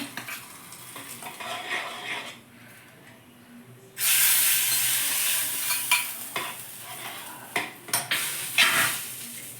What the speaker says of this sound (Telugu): ఇట్లా వేగిపోయింది కదా ఇప్పుడు పప్పులో రెండు కలుపుకునేస్తాము